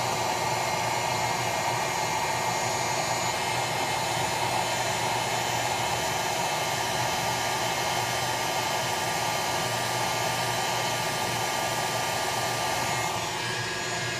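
A heat tool blows steadily on a Kydex sheet clamped flush in a vise while forming a plate carrier magazine insert, giving a constant, loud, hair-dryer-like rushing whoosh with a faint motor hum that holds unbroken throughout.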